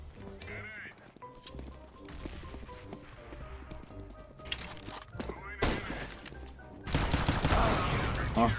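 Counter-Strike: Global Offensive gunfire crackles in sharp, scattered bursts, turning into a dense, loud volley near the end, with a voice speaking between the shots.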